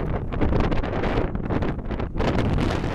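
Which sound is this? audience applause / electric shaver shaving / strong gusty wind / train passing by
strong gusty wind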